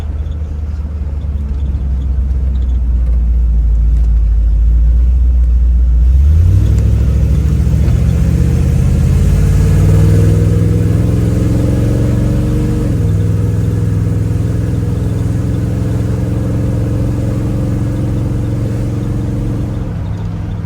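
A 1957 Chevy Bel Air restomod engine idles low, then revs and accelerates on the road with rising pitch, staying loud and close as it pulls through the gears.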